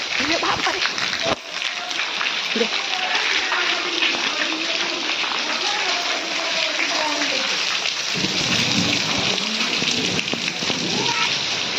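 Heavy rain pours steadily throughout with a deep rumble of thunder, while voices talk over the downpour.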